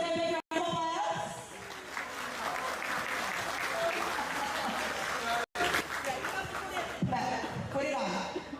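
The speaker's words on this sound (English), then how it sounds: "Please give a big round of applause." An audience at a Telkomcel annual event claps for the Minister of Public Works, a continuous crowd of applause broken by two abrupt silent gaps, with voices and some background music mixed in.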